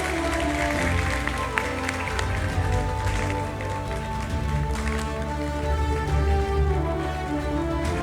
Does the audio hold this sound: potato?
no